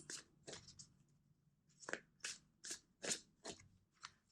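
Crisp riffling bursts of cards being shuffled, about a dozen quick flutters in an uneven rhythm, close and fairly quiet.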